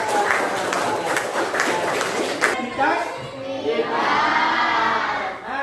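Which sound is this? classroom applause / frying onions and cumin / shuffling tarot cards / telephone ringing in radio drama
classroom applause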